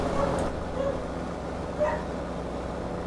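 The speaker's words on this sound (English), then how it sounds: "Sorry about the dog barking, guys" A dog barks indoors a few times, short yips at the start and again near two seconds, fairly faint behind a steady background hum, with no talking.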